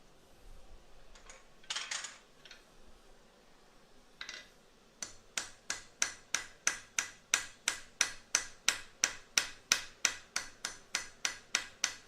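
Light scraping and tapping at first, then a hammer strikes a small anvil in a steady, even rhythm of about twenty sharp, ringing blows, close and clear with no talk.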